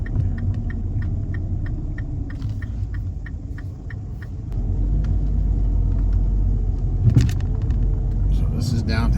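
A car driving through downtown Wayzata beside Lake Minnetonka, with a steady low engine and road rumble inside the cabin and faint regular ticking, and a heavier rumble in the second half.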